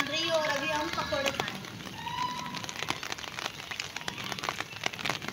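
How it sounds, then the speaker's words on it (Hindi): Rain falls steadily, a continuous patter and hiss with scattered drop taps, while a voice talks briefly over it at the start. "बारिश अभी भी चल रही है"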